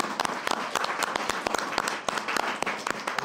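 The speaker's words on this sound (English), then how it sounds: "Let's give them a round of applause." A small audience at a city council meeting gives a round of applause, with scattered distinct claps over a steady patter of hands, moderately close and without talk.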